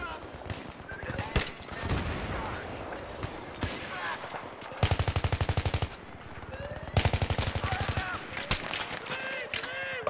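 Bursts of rapid assault-weapon fire in a Battlefield 3 PC match on Damavand Peak, with two loud sustained automatic volleys and scattered shots mixed with game noise and voices.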